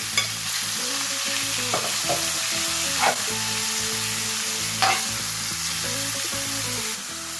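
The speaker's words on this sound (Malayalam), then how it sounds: "ഓയിൽ ചൂടാകുമ്പോഴേക്ക് നമ്മൾ ഈ മിക്സ് ചെയ്ത് വെച്ചിരിക്കുന്ന ബീഫും അതുപോലെ തന്നെ മിക്സ് ചെയ്ത് വെച്ച സവാളയും കൂടി ഇട്ട് വഴറ്റി കൊടുക്കണം." Beef and onion sautéing in hot oil in a cast iron pan, a steady loud sizzle with a few sharp scrapes of stirring, while soft background music plays throughout.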